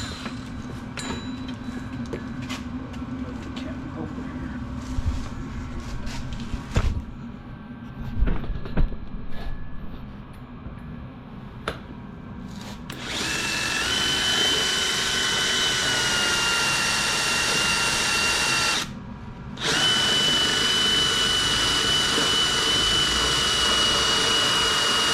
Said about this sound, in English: we're going to have Spencer drill us a hole in here